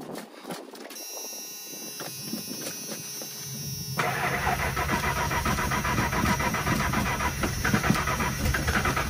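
A farm pickup truck's engine cranks and then catches, settling into a loud, steady idle that runs on close by with no talk over it.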